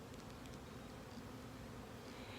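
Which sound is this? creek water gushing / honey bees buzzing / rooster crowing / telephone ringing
honey bees buzzing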